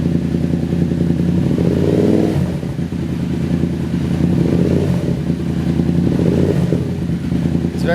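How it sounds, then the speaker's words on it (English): Yamaha FZ-07 motorcycle engine, freshly throttle-body synchronized, idling close by and swelling into a few short throttle blips with a gritty, rumbling exhaust note between steadier stretches. "It's very happy to rev right up."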